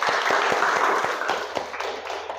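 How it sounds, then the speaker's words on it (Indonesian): A classroom group claps hands for a few seconds, with sharp, uneven claps close by that slowly thin out. "Tepuk tangan."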